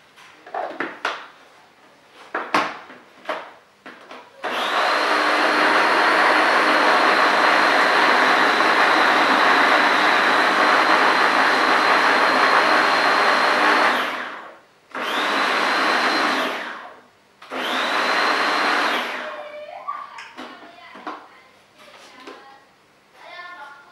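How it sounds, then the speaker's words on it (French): A Babycook baby food processor blends an apple, mango and vanilla compote, a loud steady motor whir running about ten seconds, then two shorter pulsed bursts, with scattered clatter before and after. "Et maintenant, on n'a plus qu'à mixer."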